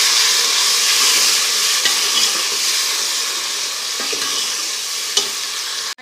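Chopped tomatoes sizzle and fry in a pan for chicken dal while a spoon stirs them, giving a steady, close hiss with soft scraping and a few faint clicks, no voices.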